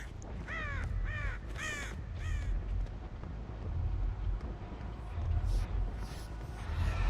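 Several crows caw in Dead by Daylight, a run of hoarse calls early on over steady wind-like ambience, with a couple more fainter caws later.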